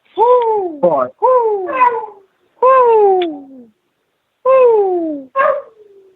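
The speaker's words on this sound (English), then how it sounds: "I don't know if you can hear that, but my dog." A dog howls indoors in several long, wavering, descending howls in quick bursts with short pauses between them, loud and close, with no talking.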